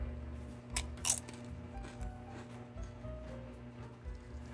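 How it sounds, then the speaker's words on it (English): A tortilla chip loaded with street corn dip is bitten with a sharp crunch, followed by quieter chewing crunches at close range, alone without talk. "See if you can hear that crunch."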